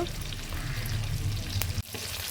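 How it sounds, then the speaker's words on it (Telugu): Mustard seeds, curry leaves, onions and green chilies fry in hot oil for a brinjal fry, a dense continuous sizzle with stirring, briefly broken by a soft clunk near the end. "కొంచెం ఆయిల్ వేసుకొని ఆవాలు కరివేపాకు తర్వాత ఉల్లిపాయలు పచ్చిమిర్చి ఇవన్నీ నూనెలో ఇలా వేయించుకోవాలి"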